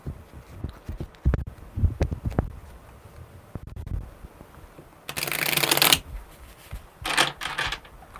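Tarot cards riffled in two loud bursts, a long one then a shorter one, with soft handling taps and card knocks around them during a live one-card reading.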